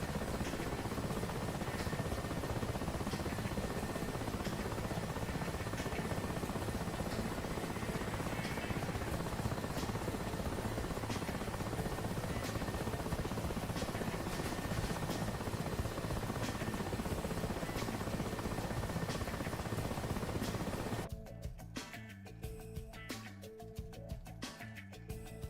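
A helicopter in the combat flight simulator DCS World drones steadily with a dense, loud rotor and engine roar during a landing, then cuts off sharply near the end, leaving faint choppy sound.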